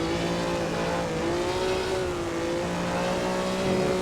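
A historic 1954 Formula One car engine held at full throttle at the Nürburgring in Assetto Corsa, a loud sustained high-pitched drone with gently shifting pitch, close and unbroken.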